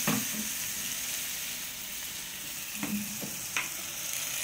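Fish frying in a pan gives a steady hissing sizzle up close, broken by a few sharp clinks and scrapes from a utensil near the end, with no speech.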